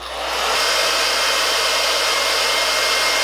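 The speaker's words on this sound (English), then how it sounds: "So then I just use my blow dryer on hot this time." A blow dryer on hot, drying a lace wig, switches on and quickly settles into a loud, steady whooshing roar close by, with no talking.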